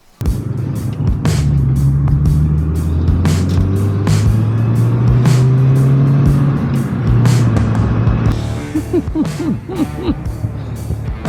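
A small Mini car drives around the block, its engine humming steadily up close with shifting pitch as it accelerates, plus a few knocks and bumps, and a voice briefly near the end.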